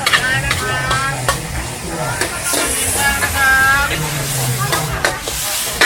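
Pad thai stir-fried in a wok at a busy street stall, loud continuous sizzling with repeated clattering scrapes of a metal spatula against the pan, close up and steady throughout, with someone talking over it.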